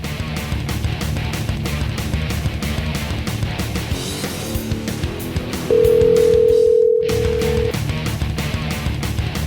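A telephone dial tone sounds while calling in to a live show. The steady tone holds for about two seconds over rhythmic background music, then the line briefly drops out.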